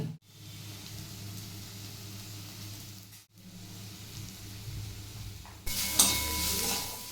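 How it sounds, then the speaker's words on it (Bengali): Garlic cloves and green chillies frying in a pan with turmeric, a steady soft sizzle with occasional stirring, briefly dropping out twice and rising louder and brighter near the end. "চার পাঁচ কোয়া রসুন আর তিন চারটে কাঁচা লঙ্কা তো দিয়ে এটাকে আমি ভাজতে দিয়ে দিয়েছি"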